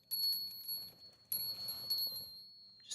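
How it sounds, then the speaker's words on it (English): An electronic death bell chime in a car window tint shop, a steady high tone ringing in two long bursts with a short break between, fairly faint, with no talk. "You guys want to hear the death bell?"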